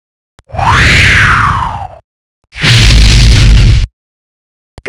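Two loud bursts in the PC game Blinky Bill's Extraordinary Balloon Adventure: a balloon pop with a squealing, sweeping rush of air, then a second broader bang, each about a second and a half long, with no voices.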